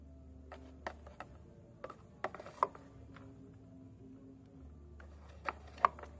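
A Yamaha Mio scooter engine is turned over slowly by hand during valve adjustment, giving sparse mechanical clicks and ratcheting ticks at irregular intervals over a low steady hum, close and quiet.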